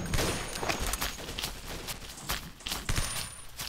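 Gunfire from a small gun in the blocky shooter game Blockade 3D: a rapid series of sharp shots and bursts, fairly close and fairly loud, over a busy background of game noise.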